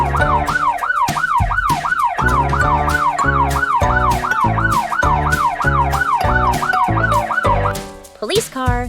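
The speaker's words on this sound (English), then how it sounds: "Police car." A police car siren wails loudly and close, cycling in a fast regular up-down yelp, with short pulsing bursts underneath, before cutting off near the end.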